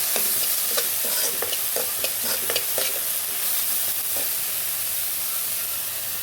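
Mustard seeds, cumin, onions and green chillies fry in hot oil with a steady, close sizzle, while a utensil stirs and scrapes the pan in repeated short clicks through the first half.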